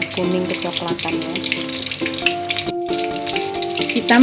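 Pressure-cooked milkfish pieces frying in oil over a low flame, a busy sizzle with crackles and pops throughout, close, with a brief pause near the end and a short faint voice.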